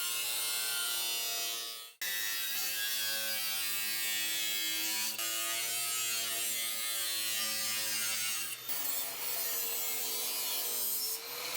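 A power tool grinds and rasps steadily as it trims the flanges of a Ford dentside short-bed truck bed panel, loud and close, with brief pauses in the cutting.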